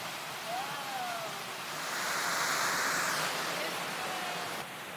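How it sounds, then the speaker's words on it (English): Steady broadband rush of water at Hanmer Springs, a continuous hiss that swells louder midway and eases near the end, with faint whistling tones above and no talk. "you might be able to hear the water as we approach."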